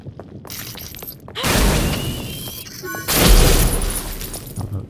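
Magical explosions in the game Mages of Mystralia, two loud bursting blasts about two seconds apart, each with a shattering, crackling tail and ringing tones.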